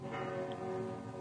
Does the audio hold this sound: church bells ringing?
yes